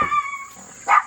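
Dogs outdoors bark at passing cyclists, a whining bark followed by a sharper bark near the end, with a steady high hiss running underneath.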